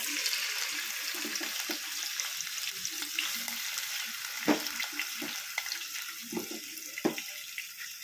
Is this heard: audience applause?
no